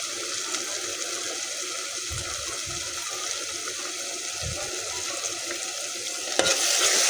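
Onions and tomatoes frying in oil as they are stirred for a masoor dal, a continuous soft sizzle with a few low thumps of the spoon and a brief clatter near the end.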